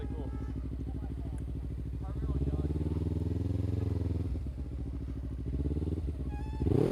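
A sportbike motorcycle in a school parking lot rumbles at a steady idle, then revs up briefly and settles back, with a final short rev at the end, heard fairly close amid faint background voices.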